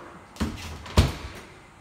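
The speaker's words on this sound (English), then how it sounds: "I'm gonna go back out in the hall and close the door" An interior door swung shut from a hallway inside a house, giving two distinct thuds about half a second apart, the second one louder, then a fading room tail with no talking.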